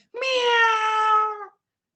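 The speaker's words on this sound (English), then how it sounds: "play and make sound meow" A single clear cat meow, the stock sound effect in the Scratch programming tool, rises and then trails off over about one and a half seconds, loud and close with nothing else around it.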